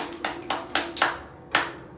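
Children in a group exercise clap their hands in five distinct, evenly spaced claps, the last after a short pause, moderately near with a steady low hum beneath.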